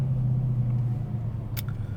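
A car engine rumbles low and steady while driving on a road, a quiet, muffled cabin drone with a faint brief higher noise near the end and no talking.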